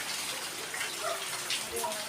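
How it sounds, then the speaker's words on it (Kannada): Heavy morning rain after two months of monsoon produces a steady, soft wash of falling water that stays even and fairly faint throughout, with no voices. "ಮಳೆ ನೋಡ್ರಿ ಎಷ್ಟು ಜಾಸ್ತಿ ಅದ ರೀ."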